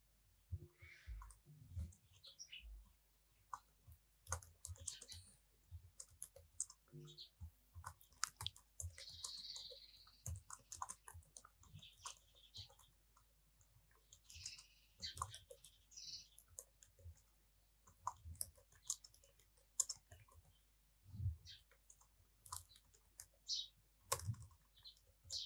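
Text being typed on a computer keyboard, a faint, close run of irregular key clicks in quick bursts with short pauses, continuing steadily with no talk over it.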